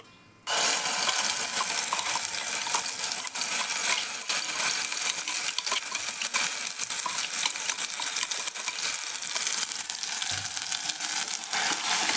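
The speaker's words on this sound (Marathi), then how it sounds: "मसाला मस्त असा तेलात परतून घ्यायचा" Ground masala paste fries in hot oil inside a pressure cooker, a loud continuous sizzle that starts abruptly and crackles steadily, with occasional scraping and stirring clinks from a spoon.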